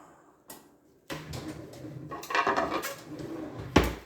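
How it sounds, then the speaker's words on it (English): A piping hot cast iron skillet is lifted out of the oven: a clunk, the rattle of the oven rack and metal scraping, then a sharp clank at the end, all close by with no talking. "But first, we're going to get this piping hot pan out of the oven."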